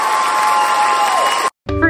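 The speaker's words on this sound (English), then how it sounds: "Let's give her a round of applause." Group applause and cheering for a friend who finished a timed challenge, a loud dense burst of clapping and crowd noise that cuts off abruptly near the end, followed by a brief voice.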